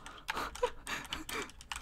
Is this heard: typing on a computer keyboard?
yes